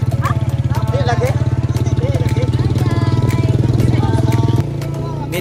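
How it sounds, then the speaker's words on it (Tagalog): A motorcycle engine labouring under the weight of several riders on Camotes Island, Cebu, Philippines, its steady pulsing thrum loud and close; the rumble drops in pitch near the end as it falters, with voices chattering over it. "Medyo hindi kinaya ng motor yung bigat namin mga kalagab"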